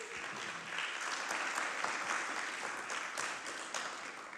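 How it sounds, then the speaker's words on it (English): Applause from a summit audience welcomes a keynote speaker, a continuous, even wash of many hands clapping at moderate distance with no voices on top. "Let's give a huge round of applause and warm welcome to Marco Mendicino."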